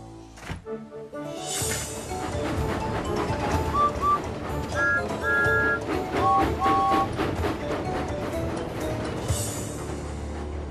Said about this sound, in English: So Thomas backed into the station to let the lady with the very big hat off the train